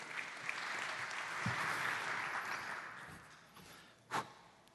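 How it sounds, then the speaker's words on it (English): An audience applauds a speaker at a business conference, a steady wash of clapping from a crowd heard at a distance that swells and then tapers off, ending with a brief thump near the end. "one big applause for Ivan Lulić, Managing Director at Superology."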